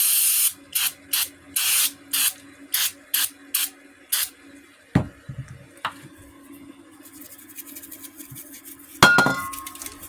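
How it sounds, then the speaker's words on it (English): An aerosol can of carb cleaner sprays an Arctic Cat Ramrod engine block in about eight short hissing bursts, followed by metallic clinks and clanks of parts and tools and a louder clatter near the end. "I was cleaning this with carb cleaner, the block, just a little bit"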